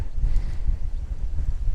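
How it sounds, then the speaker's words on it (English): Low rumbling gusts buffet the microphone, a steady roar of strong wind outdoors at a touring caravan park at Gatton Waters Fisheries, with no voices. "it's getting really windy at the moment"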